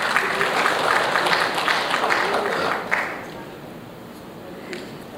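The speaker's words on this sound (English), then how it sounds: "Let's have a round of applause," Audience at the Air Cargo India 2016 keynote event applauding, dense clapping that holds steady for nearly three seconds and then fades to a quieter room.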